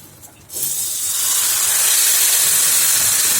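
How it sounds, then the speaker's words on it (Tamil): A steady, loud hissing rush begins abruptly and keeps building as hot water hits a hot roasting pan and sizzles into steam. "இப்போ இதில் சுடு தண்ணி கொதிக்க வச்சுருக்காலே அதை ஊற்றிக்கலாம்"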